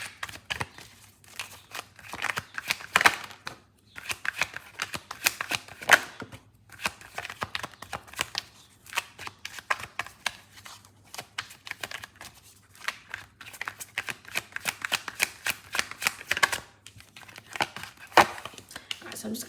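Tarot cards are shuffled close up, with fast rapid riffles and soft slapping clicks in irregular bursts that keep on throughout, fairly quiet with no talk.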